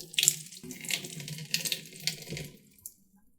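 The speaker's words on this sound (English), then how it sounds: "So we wash it a little bit first with the waters." Tap water runs over kombu seaweed in a kitchen sink, splashing and gurgling close by in uneven bursts that fade toward the end.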